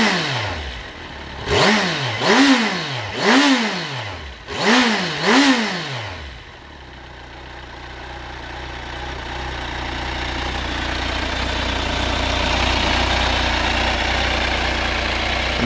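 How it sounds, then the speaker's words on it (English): A Kawasaki Versys motorcycle on its standard exhaust gives four quick throttle blips, rising and falling sharply from idle, then settles into a low steady idle with faint background hiss. "Just give the throttle a couple of blips so you can hear the standard exhaust."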